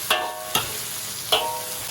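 Scallion, ginger and garlic stir-fry in hot oil with a spoonful of bean paste, a steady close sizzle punctuated by three sharp scrapes of the spatula against the wok.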